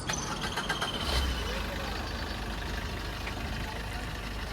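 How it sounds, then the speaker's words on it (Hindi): Idling diesel engine of a 2018 Suzuki Swift VDI with about 120,000 km on it, a steady low rumble with a faint clatter, heard from outside at close range and holding even throughout. "So this is the sound of the car,"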